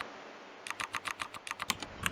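Rapid clicking keystrokes on a computer keyboard as code is typed, a quiet close burst of about a dozen taps after a short pause.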